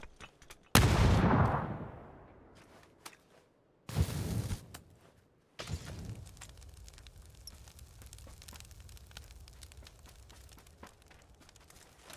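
Gunfire in the battle royale video game PUBG: a loud close blast with a long decaying tail, a second shorter burst a few seconds later, then a steady low rumble with scattered faint crackles.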